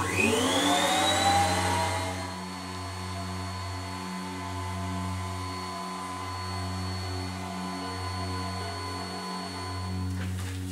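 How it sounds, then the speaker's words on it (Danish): A podiatry nail drill with built-in vacuum suction spins up with a rising whine, then settles into a steady, loud motorized whir and suction hum, close and continuous with a faint rhythmic pulsing. "der er støvsuger i den her. Så den suger altså alt det støv, der må komme"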